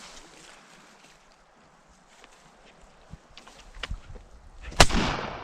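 A single loud, sharp shotgun blast fired while hunting a flying duck over a foggy lake, standing out suddenly near the end after quiet outdoor ambience and a few faint knocks.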